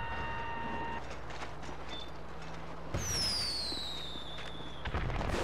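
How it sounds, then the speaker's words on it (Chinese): A firework launcher in GTA Online: a high whistling rise, then a sustained bright crackling hiss with a descending whine, over a steady low game hum, moderately loud with no talk. "烟火发射器啊！"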